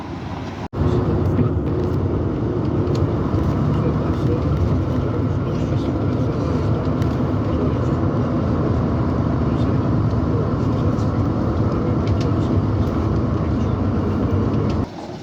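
An old Routemaster bus pulls up and drives off on a Dartford to Gravesend route, its diesel engine a loud, steady rumble that holds almost without a break for the whole stretch after a brief thump at the start.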